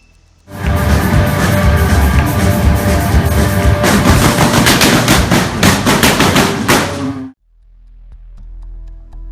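Loud, rapid bursts of automatic gunfire in Paris during a terrorist attack, a sustained barrage of shots lasting several seconds that then cuts off abruptly, leaving a low rumble.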